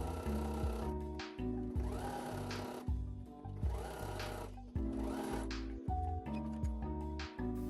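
Sewing machine top stitching a folded edge on an apron, running in several sustained bursts with brief stops between, loud and close with a steady mechanical whir and no talk.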